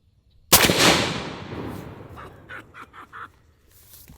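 A suppressed Anzio 20mm sniper rifle fires one heavy, loud shot with a long decaying rumble, followed by a few short distant echoes or clatters.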